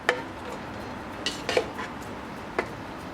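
Broccoli fried rice is moved into a serving dish, a handful of sharp spoon-on-metal clinks and scrapes scattered over quiet kitchen background, close and without speech.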